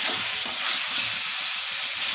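Chicken curry sizzles and crackles steadily in a pan as it is sautéed, a dense continuous frying hiss with faint stirring bumps underneath, close and fairly loud throughout.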